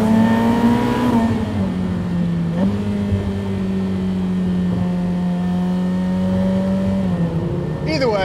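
A Ferrari F8 Tributo's turbocharged engine revs up close in one loud, steady drone. The tone climbs, dips briefly and holds before falling away near the end, with no one talking.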